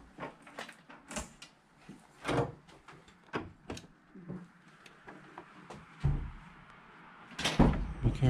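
Doors in an abandoned office building bang and clatter shut, a series of sharp knocks and thuds with one heavier slam near the end, in a hollow, echoing room.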